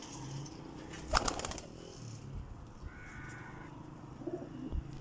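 Champion-bred pigeons coo faintly in a loft, with a sharp brief flutter of wings near the start and soft, scattered sounds of movement afterward.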